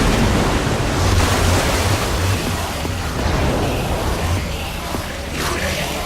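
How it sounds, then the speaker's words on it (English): Loud rushing water gushes continuously in the video game Minecraft: Story Mode, a dense roaring wash that holds steady from start to finish. "I don't know how much water this thing is going to kick out"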